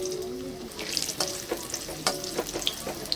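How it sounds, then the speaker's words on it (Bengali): Potatoes sizzle and crackle in hot mustard oil in a wok, with soft pops and stirring clinks scattered over a steady frying hiss, close and moderately quiet. "তেল গরম হয়ে গেছে, আলু ছেড়ে দিচ্ছি।"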